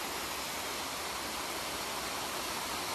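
Waterfall near Munnar giving a steady, dense rush of falling water that fills the whole stretch evenly, close and constant.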